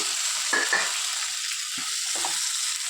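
Three medium tomatoes sizzle steadily in a hot oiled pan, a constant bright fry hiss with a few louder bursts and soft stirring knocks, no voices.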